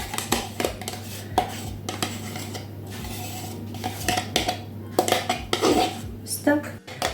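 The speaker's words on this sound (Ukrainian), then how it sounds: "Ось так перемішуємо гарненько і додаємо все до салату." A spoon clinks and scrapes against a bowl while a yogurt dressing is mixed and tossed into a diet salad, giving busy, close metallic taps and rattles in irregular bursts with no talk.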